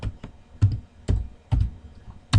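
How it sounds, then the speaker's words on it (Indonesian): Keys tapped on a computer keyboard while entering a short spreadsheet formula: five distinct, close clicks spaced about half a second apart, alone in a quiet room. "jadi langsung diketik aja juga boleh"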